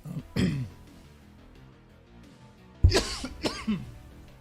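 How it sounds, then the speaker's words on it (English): Two rough coughs, the first brief and the second a louder double hack with throat clearing, sound close to the microphone in a quiet room. "I guess I still have a cough every now and then"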